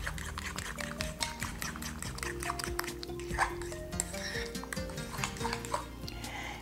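A creamy egg yolk filling for devilled eggs being folded and stirred in a bowl, with a run of quick clinks and scrapes of a utensil against the dish, close and busy.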